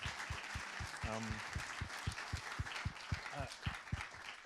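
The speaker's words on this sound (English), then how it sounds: "can we have a round of applause for Sylvain and Christine for all that." Conference audience at a mobility data event applauding the session organizers, a faint wash of clapping with a voice speaking over it and regular low thumps underneath.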